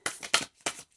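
Matte tarot cards are shuffled by hand in a few quick, crisp riffling bursts spaced evenly, close up and soft, with no voices.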